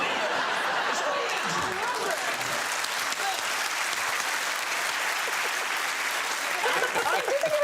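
A studio audience on a comedy panel quiz show cheering and applauding loudly, a dense continuous roar of clapping and whoops with scattered laughter throughout.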